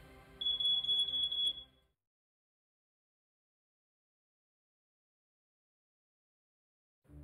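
Smoke detector alarm sounding a loud, shrill high beep for about a second and a half, followed by several seconds of silence.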